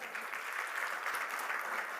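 Steady applause from a seated audience at a motivational talk, dense and even clapping at moderate distance filling the whole moment without pause.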